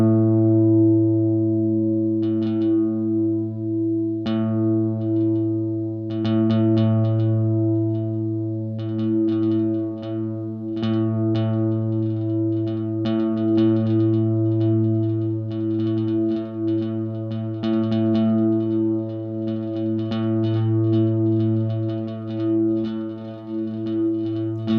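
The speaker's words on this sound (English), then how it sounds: "Let's move up to a super-sized giant reverb. This time I'm going to just use a single note." A single sustained note is played through a giant, super-sized reverb on a Soma Cosmos, blooming into a dense, humming wash with a steady low drone and scattered shimmering overtones that hang continuously throughout.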